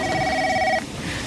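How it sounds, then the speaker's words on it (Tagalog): A telephone bell rings steadily indoors for under a second and then stops, loud and close, with faint room noise after it and no talk during the ring. "Oh, Cora, sagutin mo nga yung telepono."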